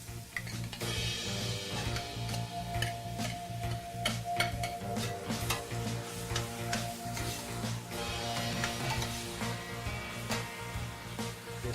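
Diced beef frying with onions in a little oil in a pan, a steady close sizzle with repeated spatula scrapes and clicks over a constant low background hum.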